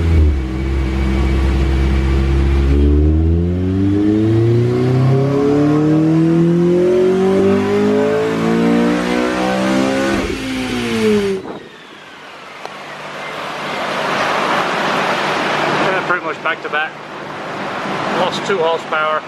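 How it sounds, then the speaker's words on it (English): Honda Civic Si fitted with a Mugen factory exhaust, revving hard on a dyno: a loud engine climbing steadily in pitch for about ten seconds, cutting off abruptly, then a rougher, noisier stretch as it winds down and idles. "This has the Mugen exhaust, which is the factory exhaust for the Mugen Civic Si."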